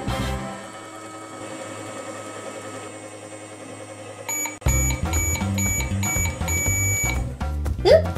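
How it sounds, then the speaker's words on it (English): A toy candy microwave's electronic buzzer sounds as a rapid, loud pulsing beep for a few seconds, following a quieter whirring hum of the toy running. "Oop, that's the sound of the buzzer."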